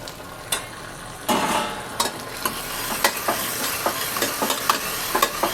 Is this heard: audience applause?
no